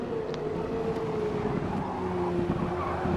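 A GT3 race car in a sim racing game brakes hard, its engine note sliding steadily downward as the tires scrub, heard up close and without voices.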